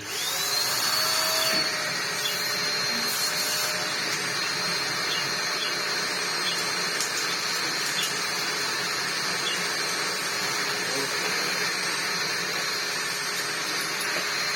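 A Dyson DC03 vacuum cleaner with a split hose picks up debris through its wand, a loud, continuous high-pitched motor whine and airflow rush, close and steady for the whole stretch with no talking.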